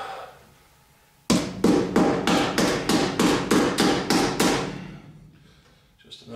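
Nails hammered in a workshop: about ten evenly spaced, loud, close strikes in a steady rhythm, then quiet room tone.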